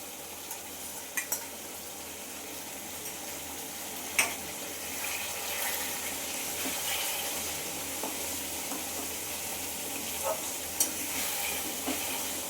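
Eggplant frying in a pan with pickle oil added, a steady, moderate sizzle with occasional clinks and scrapes of a spoon stirring.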